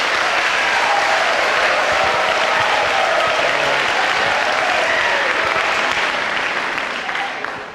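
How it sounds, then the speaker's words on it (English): Loud, continuous applause from a crowd at St. Thomas Academy for a visiting missionary priest, thick and steady from start to finish, fading slightly in the last moment. "Let's give him a round of applause."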